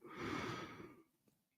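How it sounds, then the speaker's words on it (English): A man gives a big sudden yawn during a news discussion, a breathy drawn-out exhale that swells and then fades into a soft sigh, close and fairly quiet. "I had a big yawn all of a sudden"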